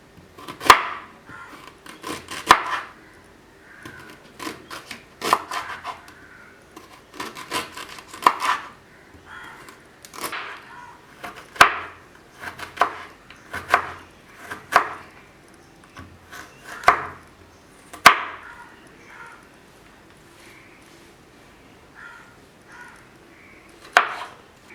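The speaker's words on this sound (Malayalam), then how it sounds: "നമുക്ക് ഇഞ്ചി നല്ലവണ്ണം ഒന്ന് നുറുക്കിയെടുക്കാം." A knife chops ginger on a board in quick bursts of sharp, close taps, each run of several strokes separated by short pauses, and the whole passage has no voices.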